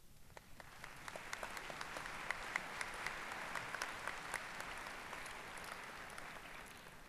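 Audience applause at a university spring commencement in a large hall, a dense, even wash of clapping with scattered sharper claps, fairly distant and low in level throughout.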